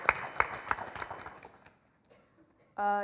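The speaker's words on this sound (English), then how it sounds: "So if we can give a nice applause for Panama and Damon, our Very Smart Brothers" A symposium audience claps in a brief round of applause that dies away within about a second and a half, after which a voice begins speaking.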